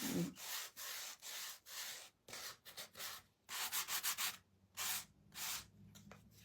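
Hand sanding along the edge of a wooden DIY angel decor kit: repeated rasping strokes in short bursts with brief pauses, close and fairly quiet, with no talking.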